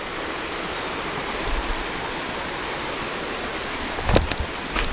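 A river flowing along a muddy jungle trail, a steady, even rush of water with a couple of brief knocks near the end.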